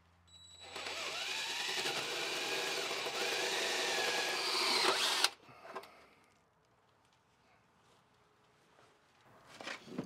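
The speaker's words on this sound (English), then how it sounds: "Drilling holes into my van is not my favorite hobby." A loud, steady high-pitched power drill whirs continuously for about five seconds drilling holes in a Winnebago Revel van, then stops abruptly, followed by faint clatter and quiet handling noises.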